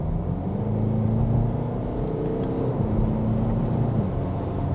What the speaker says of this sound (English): I shall put my foot down in a second and try this flappy paddle gearbox